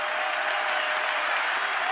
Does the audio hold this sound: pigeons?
no